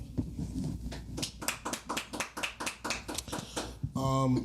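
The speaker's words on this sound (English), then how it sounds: "Make some noise, clap it up" Hands clap in a quick, even rhythm, about a dozen sharp claps close by from podcast hosts, ending in a brief tonal chime.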